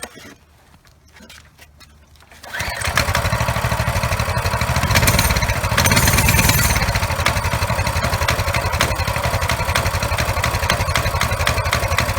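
A Coleman CT200U 200cc minibike gas engine starts up and settles into a steady, rattling idle that runs loud and close for several seconds.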